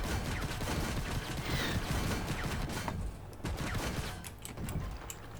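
Tank cannon and gunfire in the Armored Warfare video game, loud dense bursts of shots and battle noise that continue throughout.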